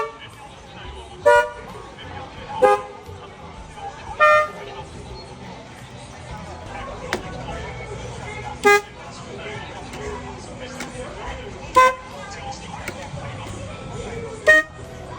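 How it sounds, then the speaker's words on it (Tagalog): Mitsuba car horns tested in a Japanese shop honk in short separate toots about every second or two, standing out clearly above a quiet room murmur. "At ito na, i-test na natin mga busina."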